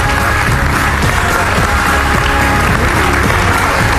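Loud, sustained applause from a television game show studio audience, dense steady clapping filling the whole stretch without pause.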